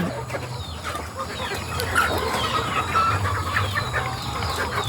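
Free-range native chickens cluck and murmur nearby outdoors, a continuous busy flock chatter with scattered sharper calls over low background noise.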